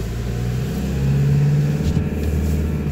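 A Hyundai Starex van engine drones under acceleration while driving, a low steady rumble that swells slightly in the middle with cabin road noise throughout.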